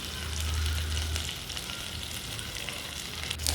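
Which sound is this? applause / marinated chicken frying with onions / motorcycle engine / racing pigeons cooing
marinated chicken frying with onions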